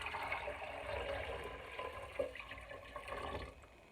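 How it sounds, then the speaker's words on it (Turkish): Water is poured from close by into a pressure cooker over bone-in mutton, a faint, steady splashing that trails off in the last half second. "İçerisine şey yapacak kadar, örtecek kadar etime su koyuyorum."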